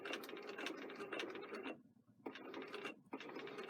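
A sewing machine stitches a sleeve placket in rapid mechanical bursts, a steady run of stitching that stops briefly twice and then resumes, close and moderately loud with no talk.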